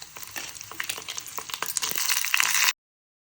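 Chana dal, urad dal and dry red chillies frying in a pan give a steady crackling sizzle broken by sharp pops and stirring scrapes, close and fairly loud, then it stops abruptly.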